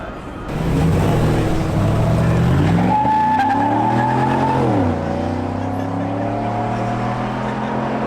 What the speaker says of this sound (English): we're gonna get to do some high-speed lapping in the pace truck